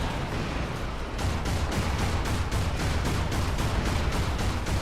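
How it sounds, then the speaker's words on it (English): Rockets bursting repeatedly in a video game, a dense, noisy barrage of rapid, evenly spaced booms with constant rumble, loud throughout. "Spam rockets."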